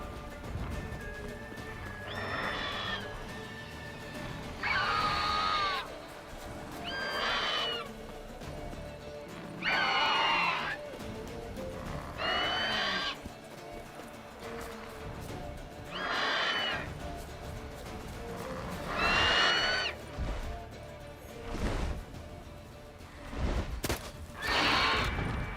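Horses in The Witcher 3 neigh and whinny in repeated loud bursts about every two to three seconds, with hoof clip-clop and game ambience between the calls.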